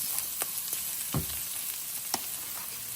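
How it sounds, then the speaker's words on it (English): Rice sautés in a pan with a soft, steady sizzle, broken by a few faint scrapes and clicks of stirring. "I've sauteed my rice for about 5 minutes"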